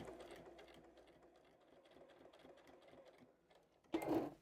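A sewing machine runs steadily, stitching along the binding of a pumpkin star pot holder, its close rapid mechanical chatter continuing for several seconds before a brief louder burst at the end.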